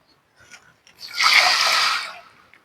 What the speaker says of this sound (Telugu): ఒక కప్పు నీళ్ళు పోసుకోండి